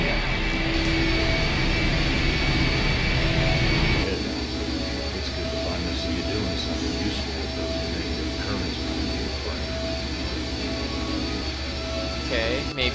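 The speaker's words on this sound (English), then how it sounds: "The engine's starting up again." Engine starting up in the video game I Have No Mouth and I Must Scream, a loud, steady roaring hum with a jet-like whine that continues throughout and drops slightly in level after a few seconds.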